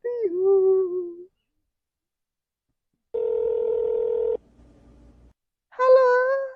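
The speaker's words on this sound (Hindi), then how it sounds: "सचिन जानू को फोन करती हूँ" Telephone dialing tones come as a long steady electronic tone, then softer buzzing, between brief tonal bursts at the start and end.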